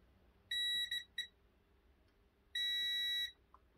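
A multimeter gives continuity-test beeps while checking a PS3 repair: a short beep, two quick chirps, then a longer steady tone about three-quarters of a second long, shrill and clear over quiet room hiss.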